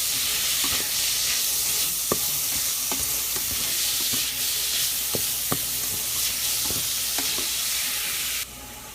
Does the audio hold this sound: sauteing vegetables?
yes